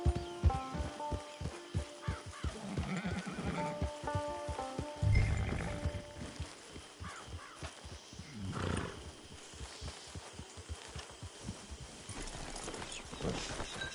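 Horse in the Western video game Red Dead Redemption 2, with steady rhythmic hoof clip-clops throughout, faint snorts and a whinny, heard over soft ambient game music.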